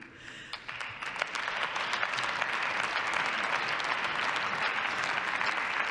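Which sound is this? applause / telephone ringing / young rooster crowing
applause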